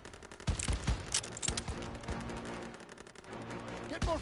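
Scattered gunshots and bursts of fire crack through a World War II battle in a video game set during Operation Cobra, with shouted commands and voices throughout.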